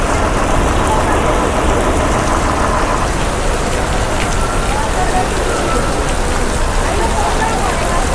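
Heavy monsoon rain pours down at a bus station, a loud, constant drumming on surfaces with faint vehicle engine noise underneath.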